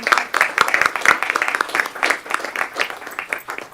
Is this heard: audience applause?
yes